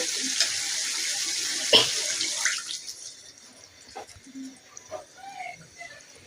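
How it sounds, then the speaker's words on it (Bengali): Water pours into a pot of sautéed chicken with a steady hissing gush for a couple of seconds, then stops, leaving quiet clinks and faint kitchen sounds. "এখন ঝোলের জন্য পানি দিয়ে দিব"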